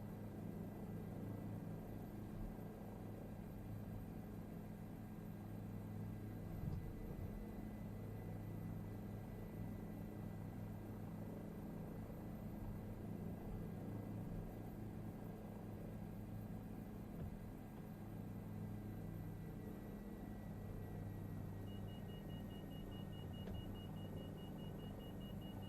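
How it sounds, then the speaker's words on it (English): A helicopter flies in a video game, giving a steady, continuous rotor and engine drone with a low rumble that holds at an even level throughout, with no talking. "We're just flying around in a helicopter."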